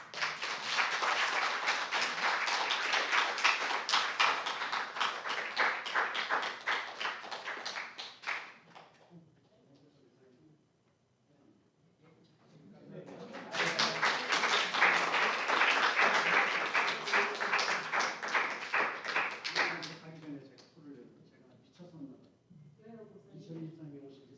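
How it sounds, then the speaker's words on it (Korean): A church congregation applauds during a communion service, sustained clapping for several seconds, a brief lull, then a second burst of applause, loud and close with the room's reverberation. "박수 쳐주세요."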